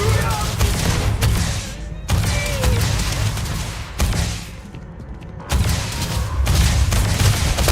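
Sustained loud bursts of gunfire and blasts from a combat scene in the video game Starfield, broken by short gaps, with shouted voices mixed in.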